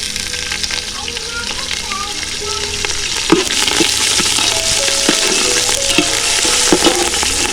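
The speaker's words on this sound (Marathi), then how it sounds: "मस्त कढीपत्त्याची फोडणी देऊया आपण इथे." Curry leaves crackle and sizzle in hot oil over onion and tomato for a village-style chicken curry on a wood-fired stove, a steady dense frying hiss with sharp pops and occasional stirring scrapes, close and loud, with no voices.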